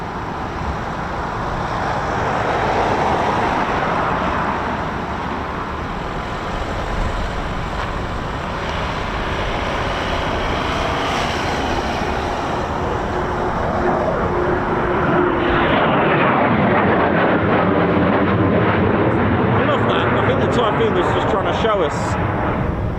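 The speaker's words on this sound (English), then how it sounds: "But I've got a Typhoon coming now." A Eurofighter Typhoon FGR4 jet passing near RAF Coningsby, a broad roaring rush that builds, holds and then shifts as it sweeps by, with people talking over it.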